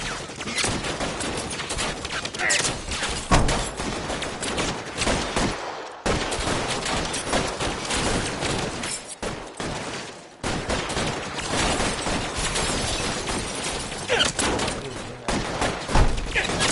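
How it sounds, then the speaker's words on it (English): Sustained heavy gunfire in an L.A. Noire shootout, a dense, loud, continuous fusillade of overlapping shots and impacts filling the whole stretch with only brief gaps. "Bullets start flying"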